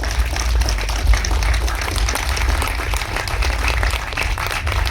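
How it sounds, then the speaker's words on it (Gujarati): An audience at a Gujarati film release event applauds for producer Nileshbhai Padsala, with loud, dense, sustained clapping from a large crowd filling the whole stretch without a break. "એમના માટે જોરદાર તાળી થવી જોઈએ"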